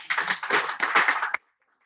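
An audience at a cocktail reception claps in a brief, dense round of applause lasting just over a second before cutting off into near silence.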